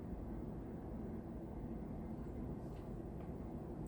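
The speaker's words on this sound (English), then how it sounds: "listen to a train in the back" A low, steady rumble of a distant train fills the background, a continuous faint roar with no distinct clatter or horn, under an otherwise quiet indoor room.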